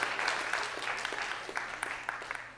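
Crowd applause and cheering for a Tesla Model 3 test driver at an indoor event, steady and fairly close throughout the short burst.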